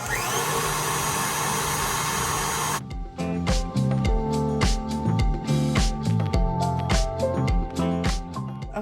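After a loud continuous whirr, a stand mixer beats egg whites with granulated sugar for red velvet macarons, its motor drone overlaid by a rapid, even rhythmic thumping of the whisk attachment, close and loud without talk.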